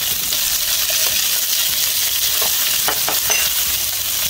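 Garlic frying in hot oil for spicy pork belly adobo, a steady bright sizzle throughout with a few sharp crackles and pops near the end, close and alone.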